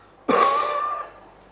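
A voice imitates a politician's cough, producing a single harsh throat-clearing cough burst that fades out over about a second, loud and close with no other sound around it.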